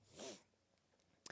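A single human sneeze, a short breathy burst at the start, followed by quiet room sound and a faint click.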